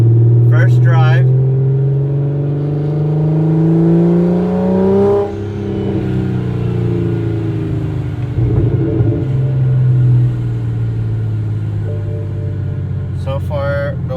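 A BMW 335xi with an N54 engine and a big single turbo pulls away, its engine drone rising steadily in pitch, then easing and climbing again. People talk over the cabin noise throughout.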